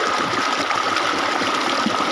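Water pouring steadily from a shallow irrigation pump (a village shallow-tube-well machine) in rural Bangladesh, a continuous close splashing gush with no talk over it.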